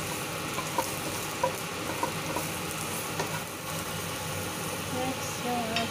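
Food frying in a pan until browned and crispy, a steady broadband sizzle with occasional stirring clicks and scrapes, close and moderate in level, under intermittent talk.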